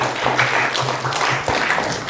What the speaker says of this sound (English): Please go ahead and give them a round of applause.